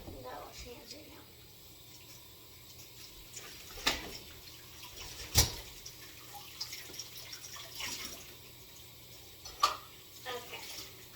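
Water from a kitchen tap runs steadily while hands are washed, quiet and close, with a few sharper splashes and clinks breaking through the soft flow.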